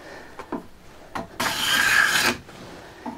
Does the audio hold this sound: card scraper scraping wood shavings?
yes